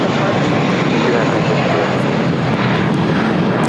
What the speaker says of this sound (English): 2293 taking off to Phoenix on an A321